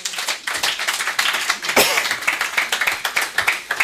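A church congregation breaking into rhythmic group clapping after a sermon reading, dense and close, with a brief voice rising over the hands midway.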